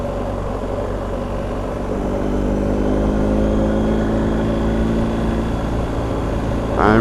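A BMW R1250 GS Adventure boxer-engine motorcycle rides in third gear at low revs near 3,000 RPM, giving a steady, loud engine drone that rises gently under wind noise.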